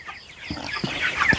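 Broiler chicks about 25 days old on a farm give three short clucks spaced roughly evenly apart, fairly close over a quiet background.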